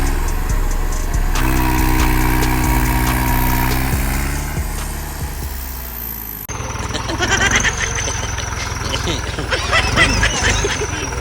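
A tractor engine rumbles steadily while pulling a trolley, a loud continuous mid-pitched drone with shifting tone partway through, and people talk over it.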